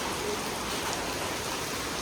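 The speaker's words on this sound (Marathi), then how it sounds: "आता जबरदस्त पाऊस इलो आहे" Steady, dense rain pours down without a break, a loud broadband hiss of drops hitting surfaces close by, with no voices.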